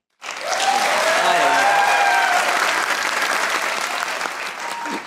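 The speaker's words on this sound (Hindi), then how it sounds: "वो तालियां बजाएं" A studio audience on a Pakistani comedy talk show breaks into sudden, loud applause that starts from silence and continues as dense, steady clapping, with faint voices under it.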